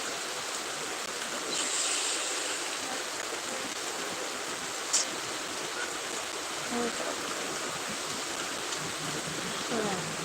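Rainwater rushing fast through a flooded street just after a downpour, a loud, continuous broadband roar of flowing water with faint voices underneath.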